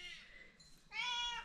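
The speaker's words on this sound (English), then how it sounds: "Hello, kitty." A house cat meows indoors, two drawn-out tonal cries with a short pause between them, close and clear against a quiet room.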